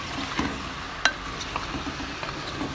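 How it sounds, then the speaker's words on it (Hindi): Chopped potatoes fry over high heat in a pan of kalonji spice masala, giving a soft continuous sizzle with a few light stirring scrapes and clicks close by, and no talking. "हम इसमें आलू डाल देते हैं जो हमने काट के रखे हुए थे। अब हम इनको फ्राई करेंगे"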